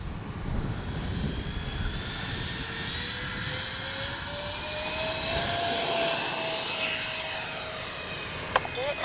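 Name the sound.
RC Freewing A-10 jet taking off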